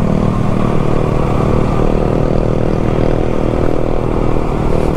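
Motorcycles pass the other way on a mountain road heading toward Tanaw Park, just after rain; a steady, loud engine drone with clatter and wind rumble runs throughout, no clear single pass standing out.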